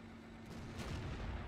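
A tank cannon shot in World of Tanks, fired from a Batchat 25T light tank as a finishing blow, heard as a dense low boom that swells over the second half and holds loud without a sharp single attack.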